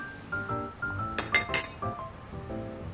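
Meatballs added to a bowl of clear bakso soup, with several light clinks of a utensil against a ceramic bowl and small wet plops, close and fairly quiet with faint background tones.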